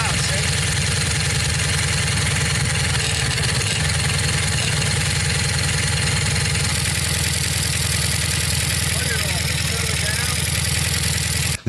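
A Briggs 5hp horizontal flat head engine running after a backfire, a loud continuous chugging drone with steady rapid pulsing, close by, with someone talking over it.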